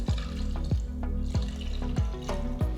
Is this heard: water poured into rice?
yes